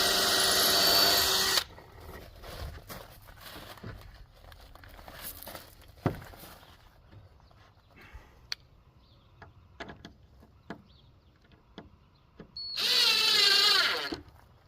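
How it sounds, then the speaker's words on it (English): A power drill pre-drilling a hole while building a cedar-panel privacy fence whirs in two short bursts, one at the start and one at the end, with quiet clicks and taps of handling between. "And then I just pre-drill a hole."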